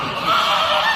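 Geese honk in a dense, continuous chorus, several birds calling at once, loud and close, with no pauses across the moment.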